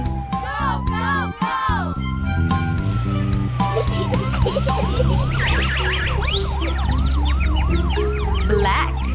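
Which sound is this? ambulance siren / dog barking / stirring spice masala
ambulance siren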